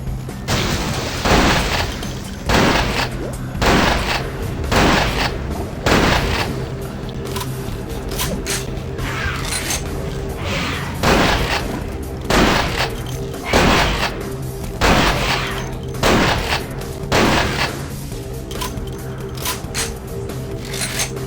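Gunfire in Vampire The Masquerade Bloodlines: a series of loud shots and booms at irregular intervals over a steady mechanical hum, heard up close for about twenty seconds.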